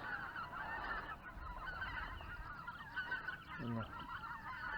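A flock of geese flying north honking continuously overhead, many overlapping calls at moderate distance, with a few louder honks near the end.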